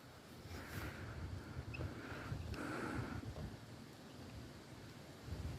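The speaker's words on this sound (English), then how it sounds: "I feel a lot of wind, you can hear that." Wind gusts buffet a microphone outdoors, low blustery rumbles that swell and fade over several seconds, fairly quiet and with no speech.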